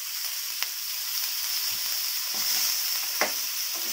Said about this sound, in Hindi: थोड़ा सा फ्राई कर लीजिए, पंपकिन को भी फ्राई कर लेना है।